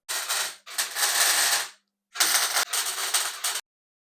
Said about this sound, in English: I think that's ready to weld in.